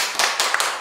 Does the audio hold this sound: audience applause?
yes